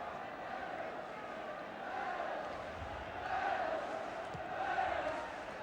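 Crowd of about 17,000 at a 1978 Wales v England friendly football match, with a steady loud roar of chanting and cheering that swells in waves, heard under a commentator's voice.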